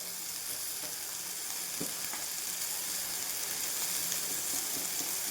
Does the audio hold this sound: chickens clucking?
no